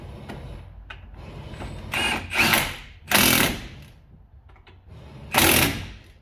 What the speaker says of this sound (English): Hold the pads and tighten them up.